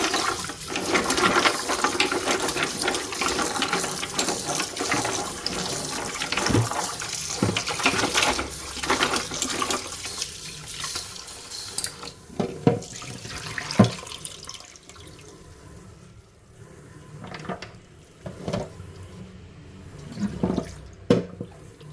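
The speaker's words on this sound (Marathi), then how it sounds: "अजून एकदा थोडं धुते म्हणजे काय आहे ना, माती वगैरे काय असेल ती निघून जाते." Turmeric roots washed under water to rinse off soil, splashing and running water with knocks and rubbing of the roots in a vessel, busy at first then sparser handling sounds, close and moderately loud.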